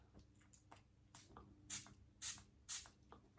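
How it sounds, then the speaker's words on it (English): Three short, bright bursts from the sprayer of a Khadlaj Shiyaaka Blue perfume bottle, spaced about half a second apart and close by, with faint handling clicks before them. "So let's give this a spray."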